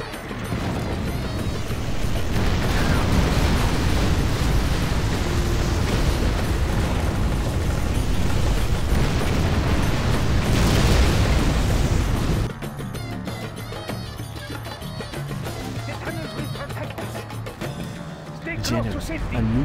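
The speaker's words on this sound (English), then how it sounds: "A nuclear missile has been released." Nuclear missile launch and blast in the strategy game Generals: Shockwave, heard as a loud sustained roaring rumble that drops off abruptly to a quieter ambient bed, with game voice lines over the sound.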